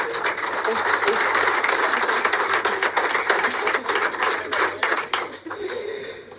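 An audience applauding a lawyer as he joins the stage, dense clapping that holds steady for several seconds, then thins out and fades near the end, with talk running through it.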